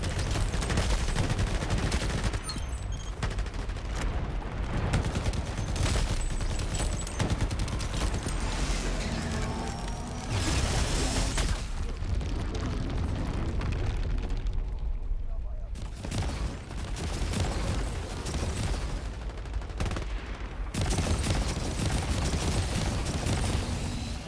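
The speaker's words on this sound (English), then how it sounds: "Yeah, fill that core with bullets." Dense, sustained gunfire pours into an enemy core during a co-op match of the shooter Shatterline, loud bursts rolling almost continuously with brief lulls, mixed with game effects and occasional voices.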